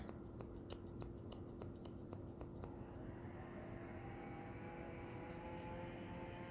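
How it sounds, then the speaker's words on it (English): Scissors point-cut the ends of long hair in a quick run of about a dozen crisp, close snips, followed by a quiet room tone with no talking. "So this sort of point cutting into the bottom, just a little bit."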